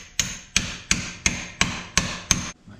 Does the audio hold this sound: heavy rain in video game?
no